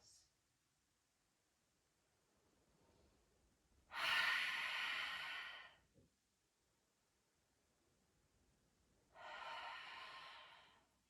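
Two slow, deep breaths during a yoga straddle-split stretch, each a breathy rush of air lasting a couple of seconds, heard close and alone with a quiet pause between them.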